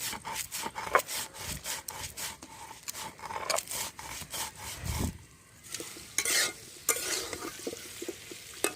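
Mango (amra) pickle with spices being stirred in a pan, giving a steady run of close, rhythmic scraping and rubbing strokes with a brief quieter pause midway.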